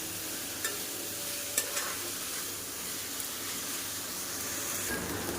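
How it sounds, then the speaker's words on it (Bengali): Spice paste being sautéed with onion and tomato for a jackfruit and prawn curry, a steady close sizzle with a few sharp scrapes of the spatula against the pan, no voices. "মশলাটা দিয়ে এবার খুব ভালোভাবে আমি একসাথে পেঁয়াজ আর টমেটোর সাথে কষিয়ে নেব।"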